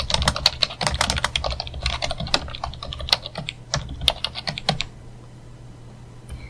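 Bursts of computer keyboard typing while code is entered, quick irregular clacks close to the mic that stop near the end, leaving a quiet hum, no speech.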